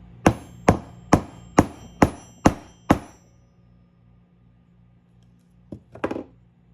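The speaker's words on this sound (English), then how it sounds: "Grab your rawhide mallet, and I'm going to just put it on my workbench and tap it down." A rawhide mallet taps a lily pendant down on a workbench: seven sharp, evenly spaced knocks, close and loud, then a quiet pause before two or three more quick taps.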